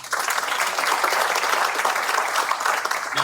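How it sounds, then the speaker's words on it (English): A crowd at a 2024 State of the City address in Whitehall breaks into steady, dense applause that holds at full strength throughout, many hands clapping together at close range. "It should be applauded again."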